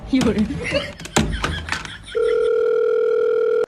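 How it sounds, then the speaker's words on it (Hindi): A few knocks and taps, then a steady, unbroken telephone tone sounds loudly and continues to the end. "एक ही बार फोन लगाऊंगा है।"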